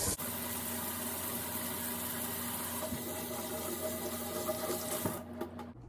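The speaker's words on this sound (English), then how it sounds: "gotta wash our hands." Hands are washed under a running kitchen tap, a steady close wash of water flowing for several seconds before cutting off abruptly near the end.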